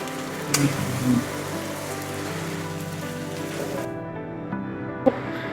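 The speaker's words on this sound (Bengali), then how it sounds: "মাছগুলোকে কিছুক্ষণ কষিয়ে নিব যেন মাছের গায়ে মশলাগুলো ভালোভাবে লেগে যায় মিশে যায়" Pabda fish rubbed with salt and turmeric sautés in spice paste in a pan for a mustard curry, with a steady, close, rain-like sizzle and a few soft clanks of the utensil against the pan.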